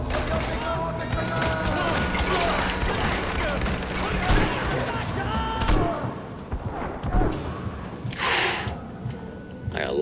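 Shotgun blasts and combat noise from a firefight in the Far Cry 4 video game on Xbox One, several loud booming shots over a dense, busy battle mix, with voices mixed in.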